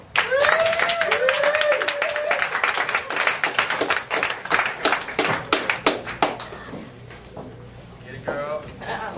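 An audience at a poetry night claps for a poet coming on stage: a burst of brisk hand claps close by, fading toward the end, with voices talking and calling out over them.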